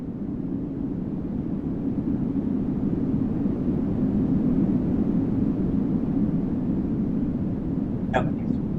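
Overlapping band-filtered noise, its filter centres chosen at random between 100 and 300 Hz, forms a steady, dense low rumble that runs unbroken and fairly loud, with one brief higher blip near the end.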